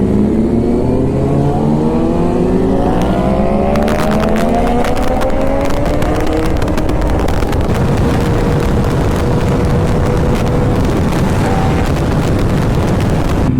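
Kawasaki Z900 motorcycle at full throttle, engine note climbing through the gears toward top speed, loud and close under heavy wind roar buffeting the helmet-mounted mic.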